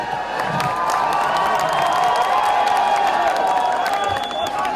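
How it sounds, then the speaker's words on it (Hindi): A large outdoor crowd at a film promotion event in the sand dunes of Jaisalmer cheers, claps and whistles continuously, a loud sustained roar with shrill whistles rising above it throughout. "सर एक एक शॉट पे जो तालियां सीटियां बज रही हैं"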